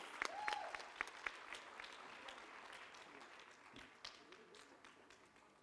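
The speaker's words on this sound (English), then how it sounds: "Please give her a warm round of applause." An audience at a Women Economic Forum session gives a warm round of applause for Slovenia's Minister for Development, Strategic Projects and Cohesion; sparse, faint clapping with a few sharper claps early, thinning out over several seconds.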